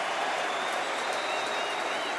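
Rugby stadium crowd at a Premiership semi-final between Bristol Bears and Harlequins applauding a substitute coming on, a constant roar of clapping and cheering from a distance.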